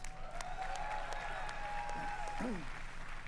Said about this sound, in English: Round of applause for the drum line, guys.